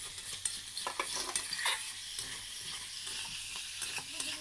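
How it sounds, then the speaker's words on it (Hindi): Masala with tomatoes frying and being stirred in a pan for a jackfruit curry, a steady crackling sizzle with scattered scrapes and clinks of the spoon, fairly close, no voices. "तो चलिए ये मसाला अच्छा से फ्राई करते हैं"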